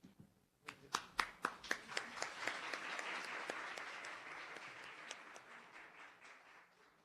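An audience at an academic conference at the Universidad Veracruzana bursts into applause for a speaker, opening with a few loud distinct claps that swell into dense clapping from the crowd and then slowly fade, heard from a distance.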